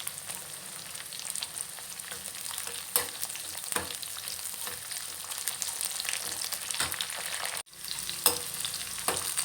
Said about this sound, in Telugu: కొంచెం ఫ్రై అయిన తర్వాత నేను మిర్చి కూడా ఇలా ముక్కలు చేసుకుని వేసుకోవాలి